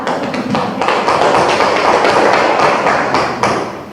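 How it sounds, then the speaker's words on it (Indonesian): A classroom audience applauds a group presentation on the greenhouse effect with dense, loud, steady clapping that lasts about four seconds. "Mari kita berikan aplaus untuk"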